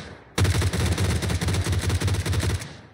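A sustained burst of rapid automatic gunfire in a shooting video game, loud and close, with fast repeated shots running for about two seconds before cutting off.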